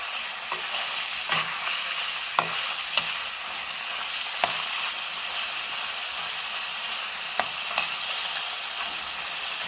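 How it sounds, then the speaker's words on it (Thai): Marinated fresh pork fries in a pan with a continuous bright sizzle, broken by a few light clicks of stirring, close and steady with no talking. "เราก็ทอดได้สักพักหนึ่งเราก็จะพอนะครับ"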